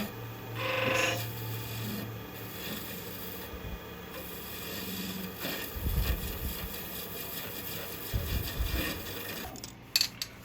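A screwdriver rasps and scrapes across a pewter wand in short, uneven strokes, close up and moderately quiet, with a few louder scratches toward the end.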